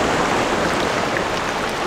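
Loud rushing water of the Fier river near Annecy, a steady broadband roar filling the whole clip with no pauses, close by and alone.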